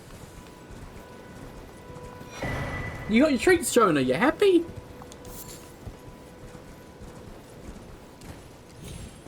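Horse hooves clip-clopping in the Elden Ring game at Castle Morne, a short burst of rhythmic steps with a whinny amid quiet ambience, while a person talks over it.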